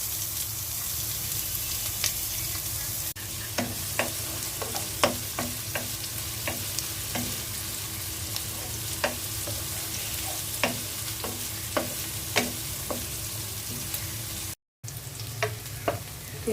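Onions sizzle steadily in hot oil in a pot for a Bengali pabda fish curry, with a dense continuous hiss broken by repeated clicks and scrapes of stirring throughout, close and fairly loud, no talking.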